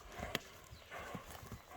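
Horse hooves clip-clop in a loose, uneven rhythm, several dull hits at moderate distance on a farm where a heavy black horse is shown, with a brief sharp knock near the start and no talk.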